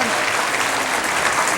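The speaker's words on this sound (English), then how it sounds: "I think you deserve some applause just for that category" A studio audience at a TV quiz show applauding, a dense, steady burst of clapping filling the room at close range, with a voice faintly under it.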